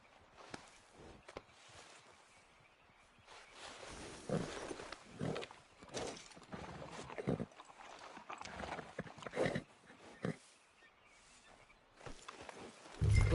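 Horse hooves clip-clop at a walking pace in Red Dead Redemption 2, steady and fairly close, with soft ambient sound and occasional thuds around them and no talk over it.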